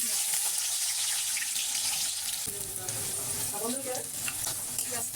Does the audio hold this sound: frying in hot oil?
yes